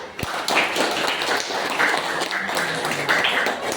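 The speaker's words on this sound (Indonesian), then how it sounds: "kita beri tepuk tangan untuk kelompok 1" A classroom group claps for a group presentation in a school lesson on social change, a moderate, fairly faint patter of hand claps after a single sharp tap, lasting a few seconds.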